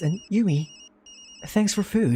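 A phone rings in the video game Tokyo Dark, a short electronic ring with steady tones sounding under and between spoken dialogue.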